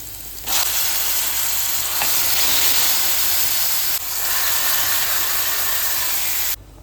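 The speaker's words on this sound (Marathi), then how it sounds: "आता हे फोडणीला जाईल" Spice tempering sizzles loudly in hot oil as onion, cumin powder, coriander powder and kokum are added, a close, steady hiss lasting several seconds before cutting off abruptly.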